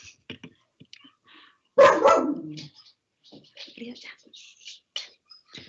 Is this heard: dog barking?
yes